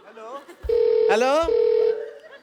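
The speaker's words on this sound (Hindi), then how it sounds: "फोन आ रहा है" Telephone rings in a TV comedy show: two long electronic ringing tones with a brief gap, loud and steady, with talk and studio noise around them.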